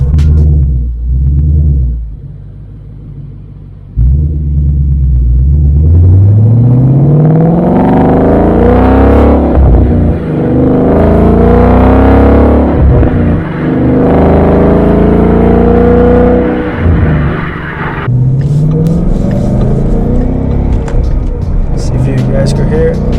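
A 2016 Ford Mustang GT V8 with a Magnaflow catback exhaust revs repeatedly, loud and close, with rising pulls and deep rumbling between them.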